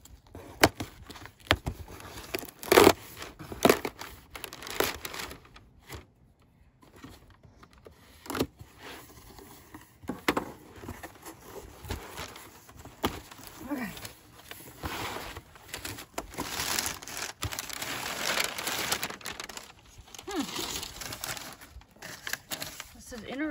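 A fiddle package is opened by hand, with irregular crinkling and rustling of wrapping, scattered taps and handling noises, moderately close, pausing in quieter gaps between bursts of activity.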